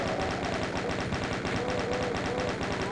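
Sustained rapid-fire bursts from a chaingunner in Doom 2, the rattling gunfire continuous and loud over the whole stretch with no talking.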